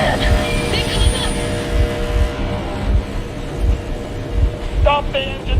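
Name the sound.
vehicle engine running, from video game Metro Exodus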